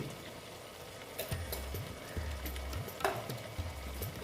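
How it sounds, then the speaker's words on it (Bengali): Kolmi shak (water spinach) chorchori with a pinch of sugar being stirred in a pan: a soft, low sizzle broken by repeated dull scraping and tossing strokes at an uneven rhythm, with no voices. "দিয়ে আবার একটু নেড়ে চেড়ে দিচ্ছি"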